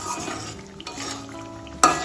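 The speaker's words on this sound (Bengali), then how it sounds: "পনিরের সাথে মশলাটা ভালোভাবে কষিয়ে নেব" Fried paneer being stirred with spices in a pan for a milk-gravy vegetarian dish, soft scraping and stirring with low sizzling, ending in a sharp clink of the utensil against the pan.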